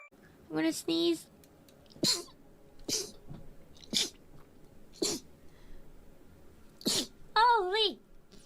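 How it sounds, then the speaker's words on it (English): Several separate sneezes from streamers, sharp bursts repeated at irregular intervals over several seconds, interspersed with short voiced exclamations and a high wavering vocal sound near the end. "I'm gonna sneeze."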